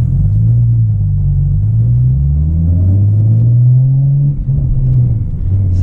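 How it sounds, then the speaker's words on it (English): Low rumbling mechanical drone from a car's exhaust, steady and loud with a slowly wavering pitch, running continuously throughout without any talk. "my car is making all kinds of noises from the exhaust, like mechanical noises"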